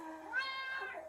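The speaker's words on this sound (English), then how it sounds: "Cat." A single clear cat meow, close and fairly loud, rising and then falling over about a second against a quiet background.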